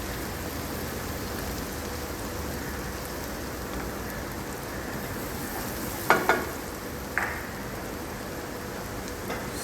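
Chopped onion, garlic and celery sautéing in a pan, a continuous rain-like sizzle with a couple of sharp spoon clinks partway through, nearby and moderately loud.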